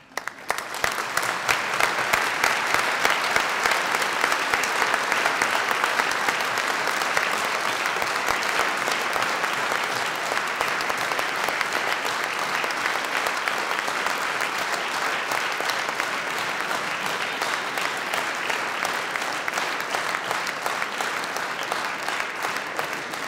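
Audience applause at a ceremony opening a themed anniversary year in Gödöllő, a dense, sustained clapping from a large crowd that stays steady and loud throughout.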